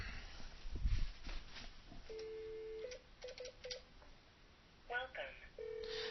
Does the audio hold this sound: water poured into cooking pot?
no